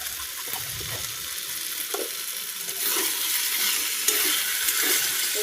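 Rice muri ghonto frying in ghee as it is stirred in a pan. A steady close sizzle grows a little louder partway through, with soft scraping from the stirring and no talk.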